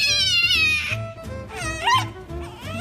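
A French bulldog puppy with a cleft palate vocalizing at close range, a string of squeaky, warbling, whiny yowls and grumbles rising and falling in pitch, almost like a cat's meow, over roughly three seconds.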